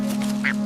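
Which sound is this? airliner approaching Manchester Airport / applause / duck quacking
duck quacking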